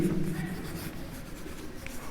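Chalk or marker scratches across a board in a classroom during a Heron's formula maths lesson, short rapid strokes, close and moderately quiet, with no talk.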